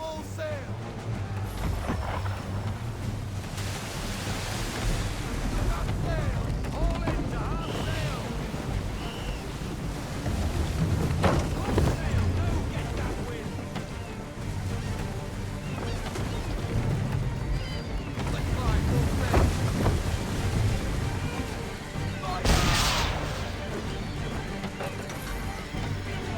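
A sailing ship under full sail on the open sea in Assassin's Creed 3, with steady rushing wind and surging waves forming a loud, continuous wash, swelling and easing as the vessel moves.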